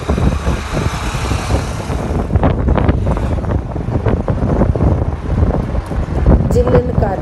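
Wind buffets and roars steadily around a bus travelling on a highway in light rain, loud and continuous, with some muffled talk under the rushing noise.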